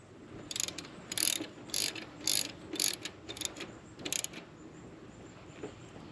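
A hand ratchet snugs down mounting bolts on a C5 Corvette during charging system repair, heard as several quick bursts of clicking pawl strokes with short pauses between, fairly close and fairly quiet.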